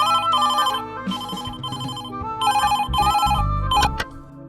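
A telephone rings loudly and close with a repeating electronic ringtone, bursts of tone separated by short gaps, with some low rumbling near the end and no talk.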